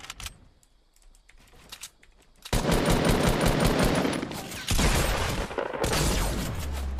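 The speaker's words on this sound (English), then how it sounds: "Hunting rifle." Rapid bursts of hunting rifle and other gunfire in a Fortnite match, quiet at first and then loud and sustained, with dense overlapping shots filling the second half.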